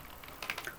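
A few quick, light keystrokes on a computer keyboard, typing a short network command, close and faint in under a second.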